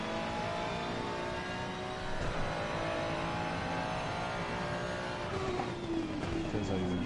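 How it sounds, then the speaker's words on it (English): Ferrari race car engine, a sustained mid-pitched motor drone with rising revving sweeps toward the end, heard at moderate distance under someone talking. "What a lovely Ferrari this is."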